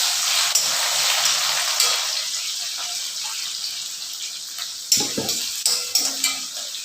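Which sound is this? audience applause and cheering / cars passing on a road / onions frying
onions frying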